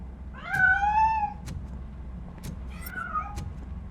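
A cat hidden inside a piano in a video game gives two clear, drawn-out meows, the first longer and louder, over a low background hum with a few soft clicks.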